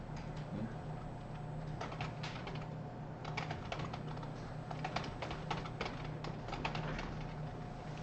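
Computer keyboard being typed on in a word-processing session, with a series of quiet, light clicks and keystroke taps in irregular bursts, faint and close, over a low steady hum.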